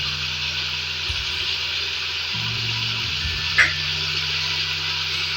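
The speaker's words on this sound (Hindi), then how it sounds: "यहाँ पर जो मीट मैंने ऐड किया था घी में, उसको फ्राई होते हुए तकरीबन 10 मिनट हो चुके हैं" Meat frying in ghee in a pot, a steady soft sizzle and hiss running throughout with a low hum underneath and one brief clink partway through.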